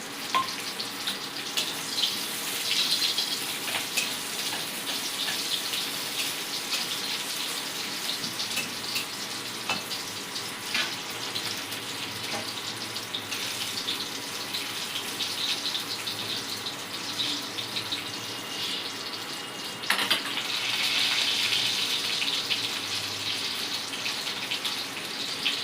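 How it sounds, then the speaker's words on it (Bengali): Vegetable stalks fry in oil in a pan while sukto is being cooked, making a continuous hissing sizzle with crackling pops, steady and close with a few sharper bursts. "এবার ডাঁটাগুলো আমরা ভেজে নিচ্ছি।"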